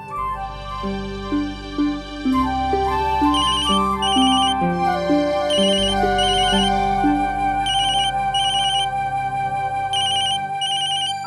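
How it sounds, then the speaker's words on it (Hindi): A loud electronic phone ringtone plays a repeating melodic tune, bright and close, continuing without pause and with no talking. "एक मिनट जरा, एक फोन आया है।"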